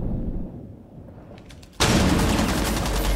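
Gunfire in the tactical shooter game Rainbow Six Siege: a dense burst of close, loud shots erupts partway through and holds steady to the end, with fainter rattles before it.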